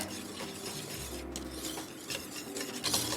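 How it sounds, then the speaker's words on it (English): Coconut milk powder is whisked in a bowl, producing a continuous close scraping and rubbing of the whisk against the bowl with faint clinks, steady and unbroken, with no talking. "We're gonna whisk this."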